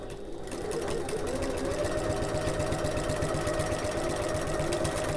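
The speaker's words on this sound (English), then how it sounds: "now I'm going to top stitch along this top folded edge" A sewing machine runs a line of topstitching along the folded top edge of a sling bag, a close, steady rapid mechanical chatter that starts up and then holds at an even speed with no talk.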